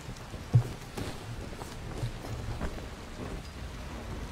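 Rain falling in the Dying Light video game, a low, steady wash with scattered dull thumps and faint rumbles, heard alone at moderate volume.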